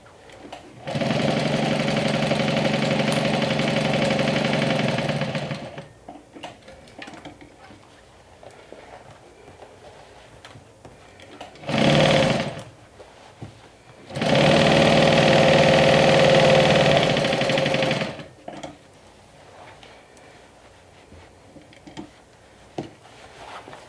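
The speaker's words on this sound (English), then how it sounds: "When you sew this, make sure that you don't stitch on the lining." Sewing machine stitching a Bagstock Sunshine crossbody bag, running in two long steady bursts of about five and four seconds with a short burst between, loud and close with quiet handling in the gaps.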